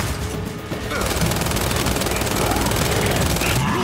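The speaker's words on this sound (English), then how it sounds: "Just keep shooting, keep shooting." Dense, continuous gunfire in the video game Gears 5, rapid shots blending into a loud, crackling barrage that carries on with no pause.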